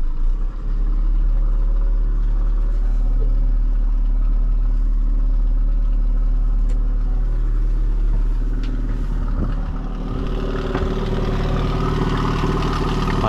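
A boat or vehicle engine idles loud and close with a steady low rumble and a faint uneven rattle, running without talk for the whole stretch.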